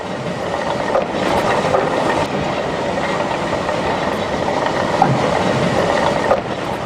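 A Peckett steam locomotive shunts in Wales: a steady rumbling train noise with rhythmic clattering of wheels on rails, continuous and fairly loud throughout, with a few faint squeals.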